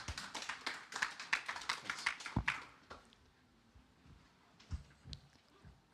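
A small audience at a conference stage gives a short burst of fairly distant applause lasting a few seconds, then it thins to scattered faint taps.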